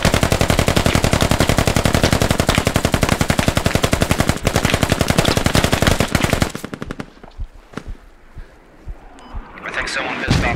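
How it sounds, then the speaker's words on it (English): Sustained machine gun fire in the Squad military shooter, a long loud stream of rapid evenly spaced shots that stops abruptly, followed by quieter rustling and wind-like noise. "I think someone pissed off the machine gunner."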